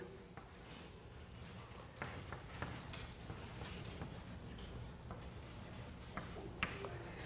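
Chalk taps and scratches on a board in a lecture room, faint irregular strokes and clicks under a quiet room hum.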